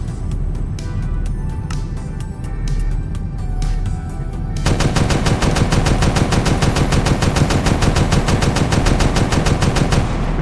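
Rapid automatic fire from turrets launching projectiles in the Minecraft Valkyrien space war mod, first as scattered bursts over a low rumble and then a dense, loud, continuous rattle of shots through the second half.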